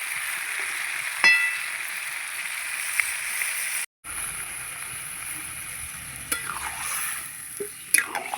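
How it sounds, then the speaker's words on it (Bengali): Spices and vegetables stir-frying in a pan while a fish curry cooks, a steady sizzle with scraping stirs heard close, and a brief break partway through. "সবজির সঙ্গে মশলা কিছুক্ষণ কষিয়ে নিয়েছি।"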